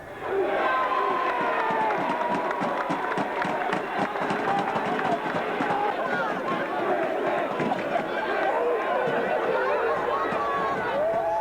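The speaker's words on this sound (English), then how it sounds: "The crowd were really getting into it, weren't they?" A football crowd at Victoria Park in 1999 roars and jeers as it trades shouts with a player, a dense, loud mass of overlapping voices, calls and chants with no letup.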